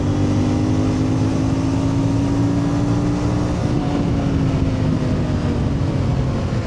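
A CF Moto 450MT motorcycle engine running close and loud, its steady drone holding a sustained tone with a brief blip of revs midway, no speech over it.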